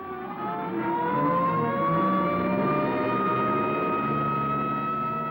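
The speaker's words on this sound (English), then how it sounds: "here comes an ambulance out." A siren wails steadily with a slowly rising pitch over a rumbling engine, loud and continuous throughout.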